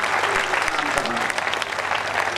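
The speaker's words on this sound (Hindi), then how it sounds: "विशुद्ध कविता पर इतनी तालियां" Enthusiastic clapping from an audience fills the space at a 2022 Ganesh Chaturthi poetry gathering in Kishangarh Renwal, a dense, continuous round of applause heard close and loud.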